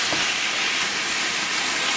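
Ground beef sizzles in a pan with butter and onions, a loud, steady, close hiss of frying that carries on without a break and without talk.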